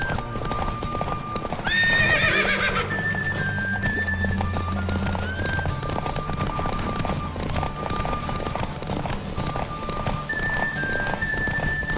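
Horse galloping during a race in The Witcher 3, with steady rapid clip-clop hoofbeats throughout and a sharp neigh early on, set against constant outdoor ambience.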